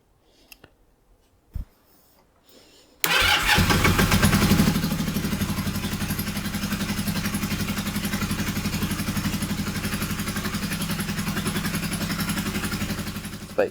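A Kawasaki Z400 motorcycle engine catches after a few quiet seconds of faint clicks, then runs loud and steady at a close, even idle with a rapid mechanical clatter until the end.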